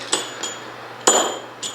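Hammer blows ring out while a South Bend 10K lathe gearbox is taken apart in a workshop: four sharp metallic strikes, two lighter, one loud and close, one lighter at the end, over a steady low hum.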